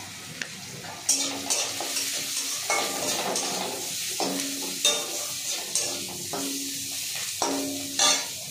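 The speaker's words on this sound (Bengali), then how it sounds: "এবার এই পেঁয়াজ যেটা ভাজা হচ্ছে" Onions sizzle steadily in a hot pan, broken by repeated scraping stirs and light clinks of a utensil.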